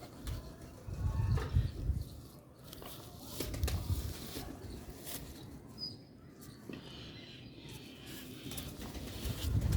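A Sialkoti black-faced Sheikh pigeon kept at home coos softly amid a rumbling, noisy backyard background, with faint rustling and scattered bird sounds throughout.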